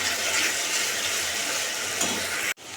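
Chana dal tipped into fried masala and stirred in a pan, a steady loud sizzle and scraping hiss that cuts off abruptly near the end.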